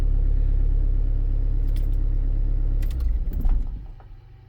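A car engine idles with a steady low rumble close by while charging the battery, then its pitch shifts and the noise tapers off toward the end.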